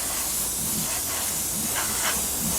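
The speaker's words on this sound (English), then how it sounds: "So we just spray on this nice light misty coat, which is nice and easy" Klear acrylic floor polish sprayed from an aerosol as a light, misty gloss coat over model armour: a steady, close, continuous hiss with no voices.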